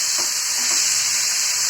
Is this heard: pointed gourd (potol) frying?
yes